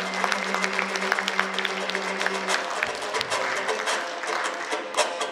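An audience at a Kazakh-Kyrgyz aitys, an improvised poetry contest, claps in a sustained burst of applause, dense and lively, with a few louder claps standing out near the end.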